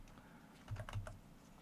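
A handful of quick keystrokes tapped on a computer keyboard while filling in podcast episode details, clustered in a short burst of soft, close clicks against a quiet room.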